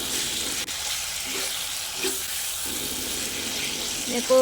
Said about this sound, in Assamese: আৰু এতিয়া চিকেনখিনি মই অলপ দেৰি ভালকৈ ভাজি থাকিম মছলাতে এনেকৈ